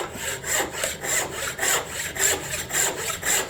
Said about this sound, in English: Making a crosscut with a turning saw here.